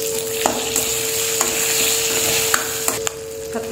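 Eggplant sautéing in a pan, a continuous loud sizzle with occasional spoon clinks and scrapes, no voices.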